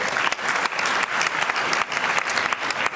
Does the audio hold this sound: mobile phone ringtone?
no